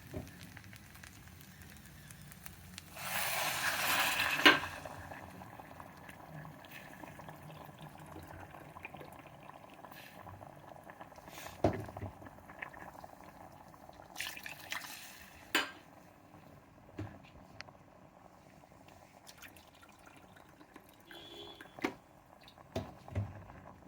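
Hot water poured from a vessel into a pressure cooker holding rice already fried with vegetables for vegetable pulao; a short, loud splashing rush, then quieter clinks and stirring in a kitchen.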